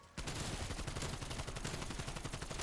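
Rapid automatic gunfire from a Call of Duty zombies game on the Die Maschine map, a dense, loud burst of shots running continuously after a brief quiet start, with no talking.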